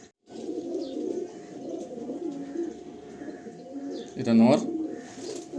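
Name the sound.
Madrasi pigeons cooing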